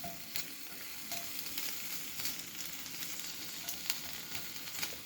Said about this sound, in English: I'm going to fry this completely where it's completely cooked, just like regular bacon